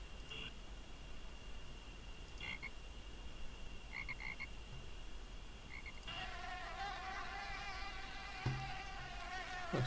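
Buzzing fly in the Amerzone video game, a steady insect drone that thickens into a dense, textured buzz over a constant ambient background of croaking frog-like calls, with no talking.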